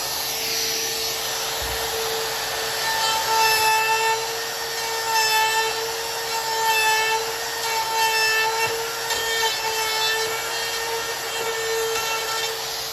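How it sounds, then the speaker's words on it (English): Router cutting hinge mortises into a plywood door jamb, a loud, steady high-pitched motor whine with gritty wood-cutting noise that wavers slightly over about thirteen seconds, no talking. "Now that we have our jamb all routed out to receive our hinges"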